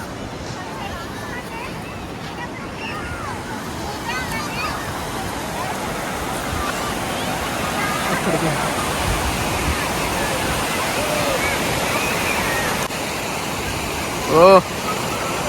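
Chaparai waterfall in Araku Valley, water flowing over a large rock, gives a loud, steady rushing roar that fills the whole clip, with faint voices of people nearby and a short exclamation near the end.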